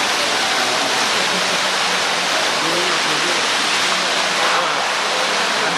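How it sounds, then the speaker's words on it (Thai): A water fountain near an entrance stairway in Tehran splashing in a dense, constant rushing hiss that fills the whole stretch, loud and close. "ที่บริเวณทางขึ้นเนี่ย จะมีน้ำพุนะครับ"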